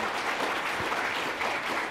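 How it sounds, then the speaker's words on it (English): An audience at a food security panel event claps for the panelists in a short, steady round of applause, heard from a distance with no speech over it. "I think we should provide a big round of applause for our panelists."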